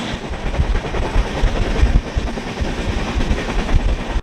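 The Sabarmati Express train rolls steadily along the tracks between Ayodhya and Varanasi with a continuous rumble and rhythmic clatter of wheels, heard from close by inside or beside the carriage.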